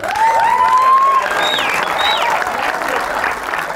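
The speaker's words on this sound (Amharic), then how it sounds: "መስዑድ አሸንፏል ምትሉ አጨብጭቡ።" An audience at a comedy show bursts into sustained applause and cheering, loud and dense throughout, with a whistle-like tone and a few raised voices cutting through the clapping.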